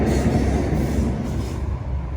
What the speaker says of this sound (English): there's the train going now